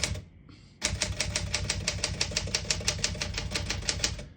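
A vintage portable typewriter is typed on in a fast, even run of crisp key strikes, roughly five per second, loud and close, after a short quiet pause at the start.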